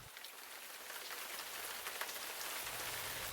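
Steady rain pours down, a dense, even hiss of drops hitting a surface, close and continuous with no voices.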